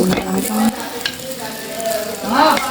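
Biko sticky rice cake being stirred in a pan over the heat, with a spoon scraping and pushing the thick rice through soft sizzling, some faint tonal voices or sounds in the background.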